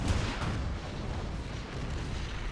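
Artillery and cannon fire in Rise of the Reds, a China army facing ECA and Russian forces, with Inferno cannons: a dense, continuous rumble of booming shots and distant blasts with no voices.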